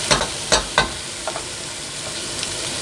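Leftover roast dinner vegetables fry in a pan over high heat, with a steady sizzle broken by a few sharp scraping stirs, loudest near the start and fading to softer taps later.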